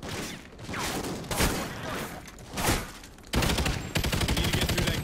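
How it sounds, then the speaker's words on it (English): Video game gunfire in Call of Duty: Ghosts, with bursts of shots and heavier rapid volleys in the second half, loud and close. "We're shooting from where?"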